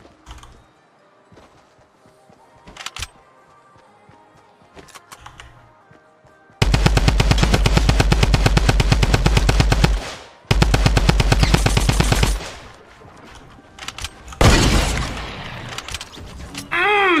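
Long bursts of rapid automatic gunfire from the video game Fortnite, loud and close, with two sustained volleys and a shorter burst after quieter stretches.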